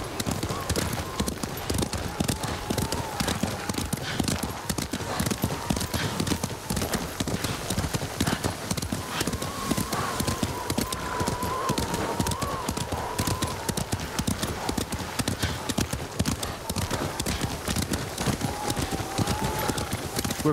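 Horses galloping in the video game Ghost of Tsushima, with a dense, steady clip-clop of hooves running continuously and loud, plus faint background tones and occasional whinnies.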